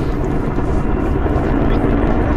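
Helicopters approach in a military video game, a loud, steady low rotor-and-engine rumble filling the whole stretch without pause or speech.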